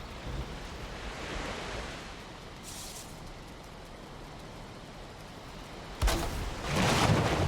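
Ocean surf in Valheim, a steady wash of waves and wind rolling at sea, with a louder surge of breaking water near the end.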